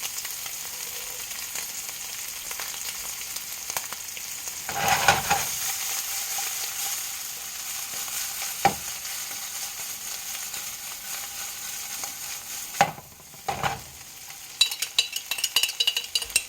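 A utensil scrapes thick white Alfredo sauce out of a glass jar, making a few scattered close knocks and scrapes over a steady hiss of background noise.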